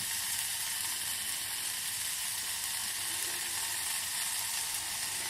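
Blueberries sizzling in a frying pan over medium heat, a steady, dense hiss of frying that stays constant and close throughout with no voices.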